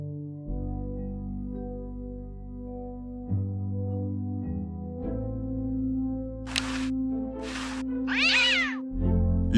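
A cartoonish cat meows and yowls in the 1993 adventure game Day of the Tentacle, three short cries near the end over a sustained synthesized music drone.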